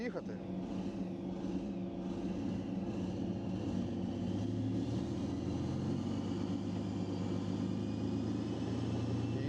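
A Challenger 2 tank drives and turns, its heavy engine droning steadily and tracks grinding, with a deepening low rumble partway through as it moves off.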